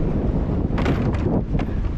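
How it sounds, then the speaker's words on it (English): Strong wind on Anchor Bay lake rushes and buffets the microphone, a low rumbling roar throughout with a few brief higher gusts. "yeah, it's pretty windy out here."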